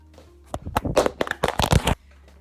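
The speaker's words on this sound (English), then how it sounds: "He likes to play with bags. Paper bags. The noisy one." A cat plays with a noisy paper bag, making bursts of crisp rustling and crinkling that start and stop in quick clusters, close by with no voices.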